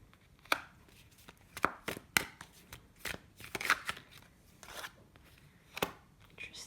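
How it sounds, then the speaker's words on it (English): A deck of tarot cards being shuffled by hand close up: quiet, irregular riffles and soft slaps of cards, each burst brief and spread across several seconds. "or as I'm shuffling"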